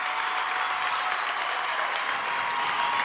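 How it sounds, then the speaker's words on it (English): Crowd at a 1998 high school basketball playoff game at North Salem High School giving a standing ovation, a sustained dense wall of clapping filling the gym, steady and loud without a break. "Jeff Reyna getting a standing ovation from the crowd here at North Salem High School"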